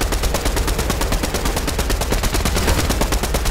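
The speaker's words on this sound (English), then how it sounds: "And there's people shooting." Rapid bursts of gunfire in the Fortnite video game, a dense, evenly spaced string of sharp shots repeating for several seconds at fairly loud level, with no talking.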